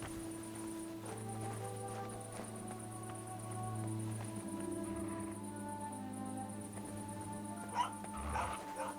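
A dog yips and whimpers in the medieval video game Kingdom Come Deliverance 2, faint and short bursts over a quiet ambient game soundscape with a steady drone, with hoof-like clops in the background.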